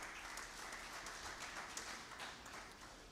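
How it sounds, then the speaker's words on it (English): Audience applause at an awards dinner honouring top young men, a steady wash of many hands clapping that stays faint and distant throughout. "So a big hearty clap to Nation Media Group."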